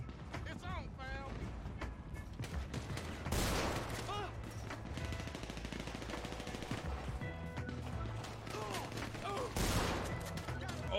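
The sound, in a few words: gunfire in a shootout, GTA 5 video game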